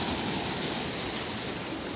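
Ocean waves wash continuously onto Maresias beach in Brazil on a late afternoon, a broad, steady roar of surf with wind mixed in and no voices.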